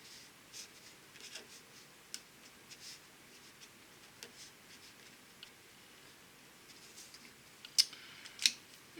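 A chemical structure is drawn by hand, faint scratchy pen strokes in short irregular bursts across a quiet background, with a couple of louder taps near the end.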